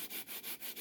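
Sandpaper rubbed against a part pressed down on a glass sheet while thinning it toward 1/32 inch, giving a steady back-and-forth scraping with about five regular strokes under a second, close and fairly quiet.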